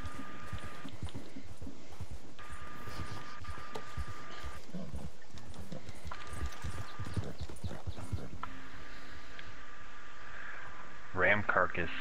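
Horse hooves clip-clop steadily in the video game Red Dead Online, a continuous rhythmic trot that runs the whole time over the game's ambient background.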